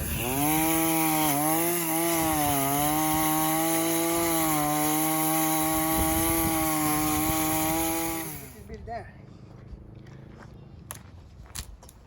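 A chainsaw roars loudly for several seconds, its pitch wavering as it cuts, then drops away to scattered crackling and rustling of wood.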